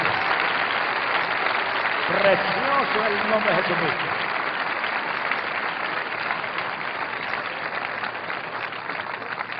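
Sustained congregational applause for Jesus Christ fills a church gathering during an evangelical service, with a preacher's voice speaking over the clapping partway through.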